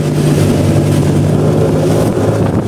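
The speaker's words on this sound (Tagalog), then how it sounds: "Iya, kalalalim ng alon." Heavy Pacific Ocean swells roll against a ship, with a loud, steady low roar and constant rushing noise continuing throughout, and no distinct breaks.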